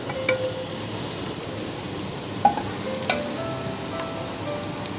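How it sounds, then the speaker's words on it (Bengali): Bay leaf, dried red chilies and whole cinnamon, cloves and cardamom sizzle steadily in hot oil and ghee, a dense crackling hiss broken by a few sharp pops and light stirring. "তেজপাতা, শুকনো লঙ্কা আর গোটা গরম মশলা, মানে দারচিনি, লবঙ্গ, এলাচ, সেগুলো ফোড়ন দিয়ে দেবো"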